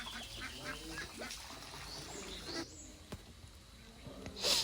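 Ducks quack faintly on a local farm in Assam, where younger and older birds are kept on separate sides, with brief scattered calls under a steady background hiss.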